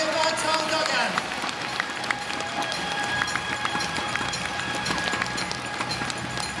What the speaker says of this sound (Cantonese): 希望大家俾多啲熱烈嘅掌聲